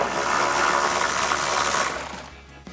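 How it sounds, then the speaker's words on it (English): A ratchet with extensions and an 8mm socket works a bolt out of a 2019-2023 Ford Ranger engine bay, giving a fast, continuous clicking close by that stops near the end. "We're gonna grab our ratchet with a couple extensions and the 8mm socket and take that out."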